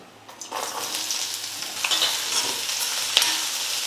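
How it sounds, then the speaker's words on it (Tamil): Onion sautéing in hot sesame oil in a kadai, a steady close sizzle with stirring scrapes and a sharp clink near the end, with no talking. "வெங்காயம் 1 நிமிஷம் நல்லா வதங்கிடுச்சு."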